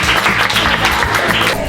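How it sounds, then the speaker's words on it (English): Audience applauding students after a lecture presentation, a steady, dense clapping that fills the room for a couple of seconds without pause. "give these guys a round of applause"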